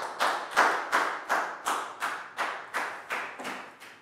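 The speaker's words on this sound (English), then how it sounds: "Big round of applause." A small classroom group claps together in about ten even, evenly spaced bursts, close and moderately loud, with no voices over it.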